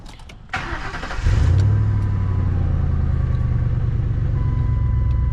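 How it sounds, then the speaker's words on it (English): A 2000 Lincoln Town Car with the 4.6 V8 cranks briefly and fires up, then settles into a steady, even idle that runs close and loud, with nobody speaking. "Right now, I'm gonna start the car up."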